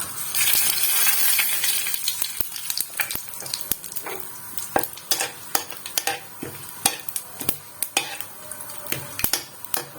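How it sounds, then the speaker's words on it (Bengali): Cumin, dry chillies, whole garam masala and bay leaves hit hot white oil in a kadai with a bright sizzle that settles, followed by repeated sharp clinks and scrapes of a metal spoon stirring against the pan. "এবার আমি ফোড়নটা অ্যাড করব। জিরে, শুকনো লঙ্কা, গোটা গরম মশলা ও তেজপাতা।"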